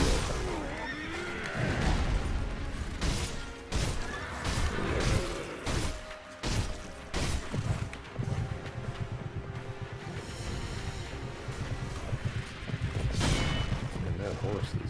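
A horse neighs loudly during a boss fight in Sekiro, mixed with heavy crashes, thuds and clashing combat sounds.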